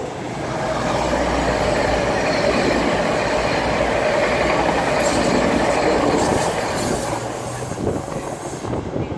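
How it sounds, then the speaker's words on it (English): A Class 222 diesel passenger train on a Sheffield-bound service arriving at a platform at Market Harborough station: a loud, sustained rumble of wheels and engine with high metallic wheel squeal, fading slightly at the end. "The train now approaching platform 1 is a Sheffield bound service."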